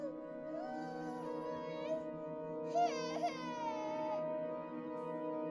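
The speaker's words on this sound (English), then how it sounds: "he heard a child crying in the house" A child crying in a house, with sustained wailing sobs rising and falling over a steady low hum, growing louder and more strained partway through.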